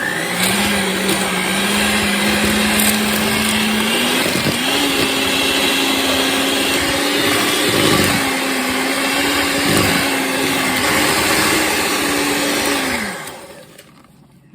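An electric mixer creams sugar and butter in a bowl, running as a steady, loud, close whir for about thirteen seconds with faint pitch wobbles, then spins down and stops.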